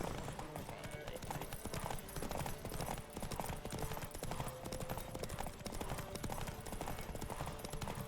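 A horse gallops hard in a race in The Witcher 3, its rapid, continuous hoofbeats close and loud under a dense wash of game music and effects, with brief voices now and then.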